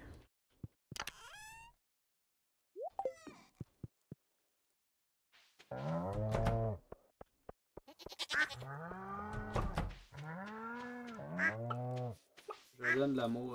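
Goats and other farm animals in Stardew Valley bleat in a few short, close calls, separated by quiet pauses, with a person speaking French over the later calls.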